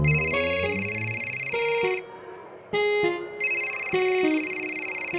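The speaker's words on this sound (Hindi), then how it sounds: "रिंग बज रही है।" A phone ringtone rings at a train station, a bright repeating electronic melody that plays loudly, breaks off briefly twice, then resumes on its own.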